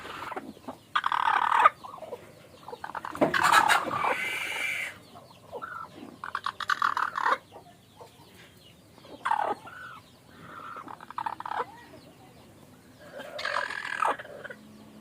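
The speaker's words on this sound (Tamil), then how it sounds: "இதுதாங்க நம்ம தூய நாட்டுக்கோழிங்கிறது" Native country chickens cluck and squawk in scattered bursts, some close and loud, others fainter, with quiet gaps between the calls.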